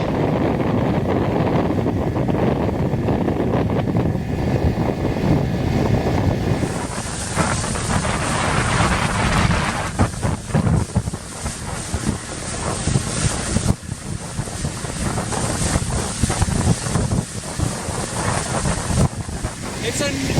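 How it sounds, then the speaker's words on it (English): Strong wind buffets the microphone in gusty roars over open water on Patoka Lake, heard from a 1980 Sylvan fishing boat, with lapping waves and occasional talking beneath. "Wow, check out this wind."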